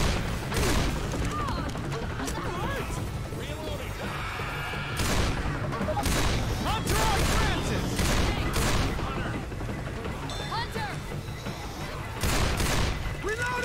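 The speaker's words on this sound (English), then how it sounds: "All right, I threw a pipe bomb." Left 4 Dead gameplay with continuous gunfire and crashing blasts, a pipe bomb going off among rapid shots and booms, with voices talking over the chaotic mix throughout.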